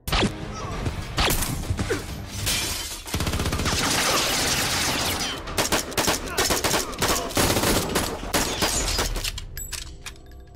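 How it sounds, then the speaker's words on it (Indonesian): Gunfire from an action film: rapid bursts of automatic fire and single shots, loud and close, mixed with crashes and impacts in a dense, chaotic action sequence. "ia malah menembakkan senjatanya ke dalam"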